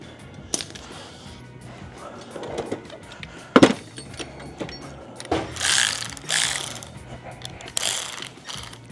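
Socket wrench ratcheting on the crank pulley of a homemade-intake-manifold street car engine: bursts of rapid metallic clicking with clanks of tools being handled, close and moderately loud, without speech.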